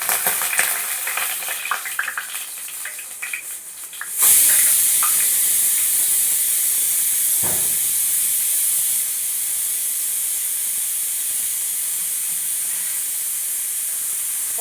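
Fennel seeds and spices hitting hot oil for a fish gravy, a sudden loud hissing splutter that holds steady, following a quieter stretch of faint clinks.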